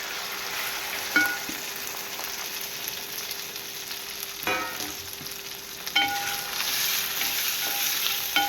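Garlic fries in oil with ginger, green chillies and curry leaves, giving a soft steady sizzle with a few louder bursts and utensil clinks as it is stirred.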